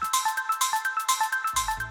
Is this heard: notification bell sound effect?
yes